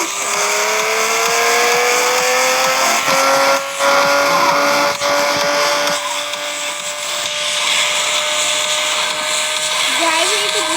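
Engine drone from a car in a video game, a steady loud whine that rises gradually in pitch with brief drops and a squeal near the end, while someone talks over it.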